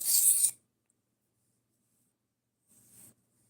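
A 1095 steel knife on a sharpening system, worked gently: one short close rasping stroke, a pause of quiet, then a softer second stroke.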